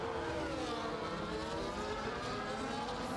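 Formula-style race cars with Mercedes power, including an Aston Martin and a Mercedes, scream past at the Qatar circuit, a dense steady engine whine with shifting pitches from several cars close together, no talking.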